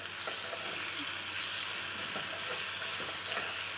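Raw mango sambharo sizzles and fries in oil in a pan, a steady close crackling hiss with faint stirring sounds and no talking.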